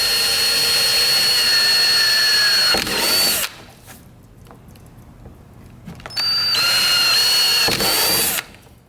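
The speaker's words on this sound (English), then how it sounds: "I'm going to use the rivets, the tri-grip rivets that come with the kit." Tri-grip rivets from an accessory kit set with a power tool: two sustained, loud whirring mechanical runs of about three seconds each, separated by a quieter pause with a faint clunk, close up with no talking.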